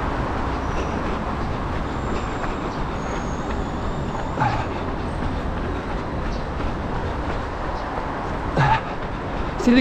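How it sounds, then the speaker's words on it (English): An overhead-cable electric trolleybus passing along a Beijing street, a loud, steady rolling rumble of road and traffic noise with a few brief squeals and clunks, no one speaking. "See, they got overhead cable electric buses"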